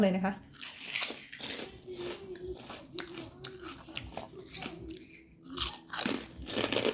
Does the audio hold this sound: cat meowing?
no